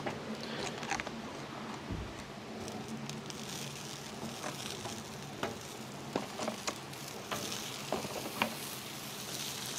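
New York strip steaks searing in hot avocado oil give a dense, steady sizzle and crackle, close and constant, with scattered small pops and spatters throughout and no talking.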